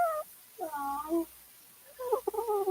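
A sleeping cat lets out a few soft, wavering meows and whimpering cries in short bursts separated by quiet pauses, close and fairly faint.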